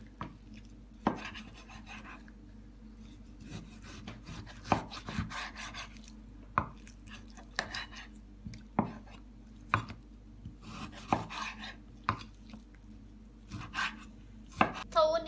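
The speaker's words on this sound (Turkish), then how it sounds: "Hemen tavuk etimizi doğrayalım." A knife chopping raw chicken breast on a cutting board in irregular, firm strokes, close by, with faint rubbing and handling sounds between cuts.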